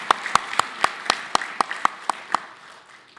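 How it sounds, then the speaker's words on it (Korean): Church congregation at a Christmas service clapping in welcome, a steady rhythmic run of about ten distinct unison claps, moderately loud in a reverberant room, tapering off at the end. "우리 뜨거운 박수로 축복하고 환영하겠습니다"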